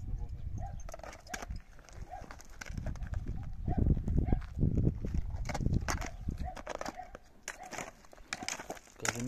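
Powerful draft horses walk on a Bukovina farm, their hooves clip-clopping in an irregular rhythm amid rustling and handling noise, with people talking nearby.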